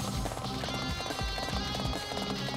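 Rapid hoofbeats of a horse galloping in the video game Dynasty Warriors 7: Xtreme Legends, a dense rolling clatter over a loud, busy wash of game noise and music.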